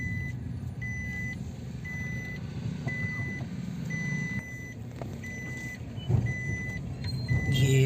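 A car drives across the Thanamandi bridge with a low engine rumble, while short beeps repeat at a steady interval from the vehicle throughout.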